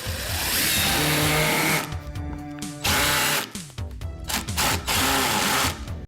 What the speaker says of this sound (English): I'm gonna screw some 2x4s to the plywood.